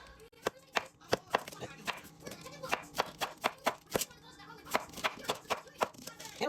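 A knife chopping zucchini and squash on a cutting board: rapid, evenly spaced sharp chops, close and crisp, continuing throughout.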